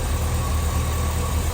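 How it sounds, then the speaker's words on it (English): A 1955 Chevrolet Bel Air with a 265 engine and full-bath air cleaner idles smoothly on a cold start, a steady, even low rumble held close and loud throughout. "Motor idling just nice."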